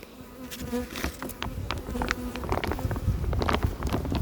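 Honeybees buzzing steadily around an opened beehive fitted with a honey super, a dense close swarm hum with scattered louder passes of individual bees near the ear, no talking.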